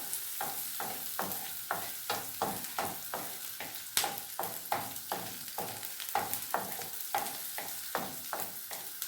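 Onions frying in a pan for a home-cooked egg dish served with ugali, a steady sizzle broken by regular scraping stirs, close and fairly quiet, with no talk.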